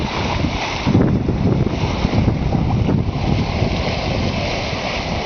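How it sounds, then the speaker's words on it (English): Water rushes and splashes steadily around a sailboat at sea as little waves pass, mixed with loud wind buffeting the microphone, and no one speaks. "You can hear the sound of the water and see all the little waves."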